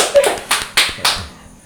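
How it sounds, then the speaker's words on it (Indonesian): A small podcast audience gives a brief round of clapping for a guest: four distinct, close claps in quick succession, then fading quiet. "Berikan tepuk tangannya dulu."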